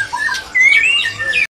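A male spotted Murai Batu, a white-rumped shama, sings a short burst of bright whistled notes and squawky chirps. The phrases are close and clear, then stop abruptly.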